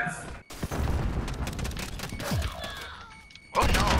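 Gunfire and heavy impacts in Call of Duty Modern Warfare, a 2v2 match: dense, clustered bursts and thuds of shots fill the clip, dropping briefly at the start, then returning loud and close near the end.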